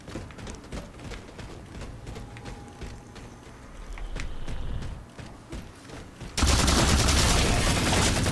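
Bursts of automatic gunfire ring out in a Halo 4 War Games multiplayer match, first as scattered quieter shots and then as a loud sustained rattle near the end.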